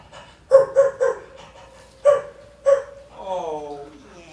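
A dog at a comedy show gives several sharp, close barks in quick succession, then a drawn-out whimpering whine at the end.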